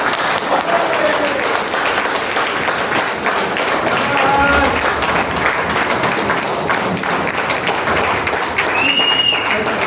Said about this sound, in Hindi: आपकी जोरदार तालियों के बीच में मैं बुलाना चाहूंगा श्री कीर्तन सिंह नेगी जी को।